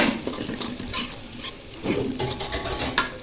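Onion and turmeric frying in a pan while being stirred for a potato and pointed-gourd dish: continuous sizzle with scraping, clattering spatula strokes against the pan, close and fairly loud, no talk.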